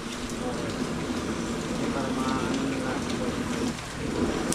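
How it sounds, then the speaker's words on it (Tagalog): Steady rain falling outdoors, a constant close hiss of drops lasting throughout, with some faint background activity. "umuulan"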